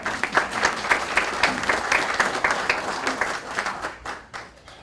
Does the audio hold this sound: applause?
yes